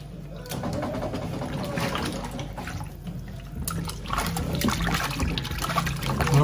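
Tap water runs steadily into a kitchen sink while raw chicken is washed for Jamaican fried chicken, a continuous splashing trickle close by, with handling noises throughout.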